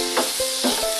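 Pork binagoongan being mixed with bagoong shrimp paste and tomato in a hot pan, giving a steady close sizzle with a few scraping stirs of a utensil across the pan.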